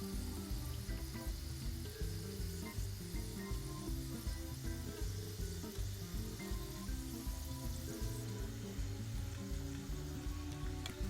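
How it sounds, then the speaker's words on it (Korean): Maejakgwa, Korean twisted pastries, deep-fry in hot oil with a faint, steady bubbling sizzle that holds evenly throughout. No one is speaking. "10개 모두 다 넣어서 황급빛 색깔이 나올 수 있도록 앞뒤로 노릇노릇하게 튀겨주시면 됩니다."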